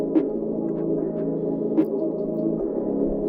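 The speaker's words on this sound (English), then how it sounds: "So it just makes it sound like kind of far away and really muffled" A hip-hop beat for Nav and The Weeknd run through filter and stereo shaper effects, sounding distant and heavily muffled, with a steady low-mid hum and soft thumps alone throughout.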